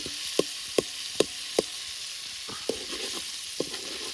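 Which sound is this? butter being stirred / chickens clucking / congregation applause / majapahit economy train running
butter being stirred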